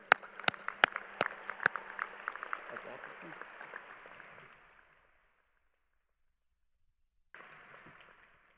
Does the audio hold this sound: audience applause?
yes